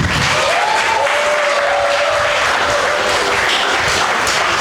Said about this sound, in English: Let's clap for your future.